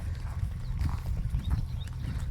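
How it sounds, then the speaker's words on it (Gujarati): A mare moves about on a farm in a village, her hooves clip-clopping in a steady, fairly close rhythm over a low, constant rumble of background noise, with no talk. "હવે મેં તમને ઘોડી બતાવી દઈએ કે ઘોડી ક્યાં છે અને શું કરે છે"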